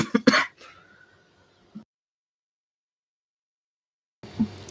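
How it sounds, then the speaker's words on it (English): A person coughs and clears the throat: a couple of sharp close bursts at the start, a faint trailing sound, then silence before another brief noise. "sorry, I need to cough"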